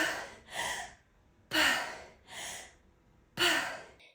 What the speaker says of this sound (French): on sort la tête de l'eau pour faire une respiration de récupération